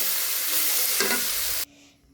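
Bitter gourd frying with coriander leaves in a pan, a loud, close hiss with a stirring scrape, then cutting off sharply to near silence, no talk.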